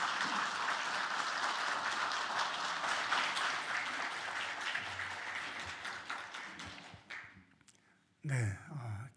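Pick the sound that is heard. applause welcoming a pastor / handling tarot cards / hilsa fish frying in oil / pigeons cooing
applause welcoming a pastor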